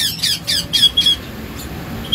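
Pet lovebirds let out a rapid series of sharp, loud squawks, about five in the first second, before settling into quieter, scattered calls nearby.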